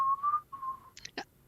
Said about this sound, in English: The check whistle.